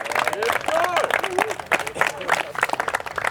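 Clapping rises from a crowd honoring a varsity player at an end-of-year team salute, moderately loud and scattered, with voices talking and calling over it throughout.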